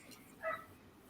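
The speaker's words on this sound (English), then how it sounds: "No, that's a dog." A dog near a beach gives a single short, faint bark, somewhat distant, heard alone against quiet background noise.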